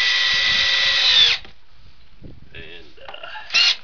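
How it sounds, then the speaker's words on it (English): A power drill drives screws into wooden picnic table boards: one loud sustained whirring burst for over a second, then quieter clicks and handling noise, and a final short drill burst near the end. "And I'm just going to run these screws in"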